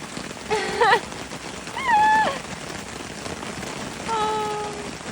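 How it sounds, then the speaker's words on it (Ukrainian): Steady rain patters on a lake surface during carp fishing, a continuous broadband hiss running through the whole clip while short whistling, bird-like tonal calls rise above it three times. "Бачите, що робить дощ?"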